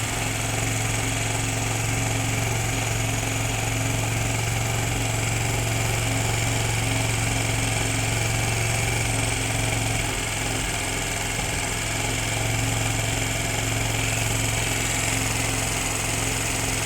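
Suzuki GR150 motorcycle engine running steadily at high RPM, a continuous loud droning hum with a buzzy whine on top, close and unbroken, with no voices.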